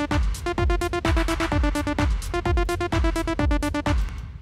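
A techno lead synth programmed in Serum runs a straight 16th-note arpeggio, bright repeating notes over a punchy kick pulse, loud and up front with no voices.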